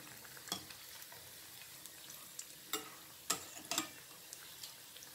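Okra vadas deep-fry in hot oil over a medium flame, a soft bubbling hiss broken by several sharp pops and clinks of a ladle turning the fritters, close and otherwise quiet.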